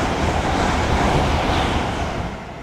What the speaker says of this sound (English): Heathrow Express.